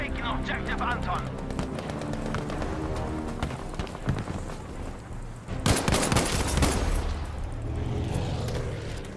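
In Battlefield V multiplayer gameplay, one magazine of rifle fire crackles in rapid bursts, densest and loudest past the midpoint. The shots sit within a busy mix of game noise and a talking voice.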